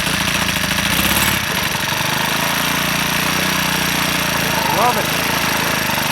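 Troy-Bilt 575 EC lawn mower engine with a newly replaced carburetor idling close by, a steady low knocking chug throughout, with a voice speaking briefly over it.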